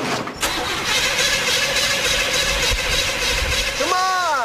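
A car engine cranks steadily for several seconds without catching, then a brief rising whine at the end, heard up close.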